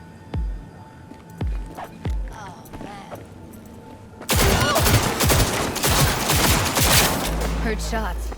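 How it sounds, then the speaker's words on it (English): Gunfire in the video game Cyberpunk 2077: a few separate, spaced shots ring out first, then a dense, loud burst of rapid fire takes over through to the end. "Heard shots."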